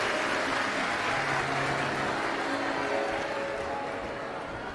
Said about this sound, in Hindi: एक बार यजमान परिवार के लिए जोरदार ताली बजाकर स्वागत